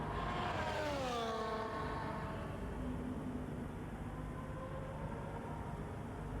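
A race car engine in a racing video game drones steadily, with a falling pitch sweep early on, then settling into a constant hum under broad track noise, no talk.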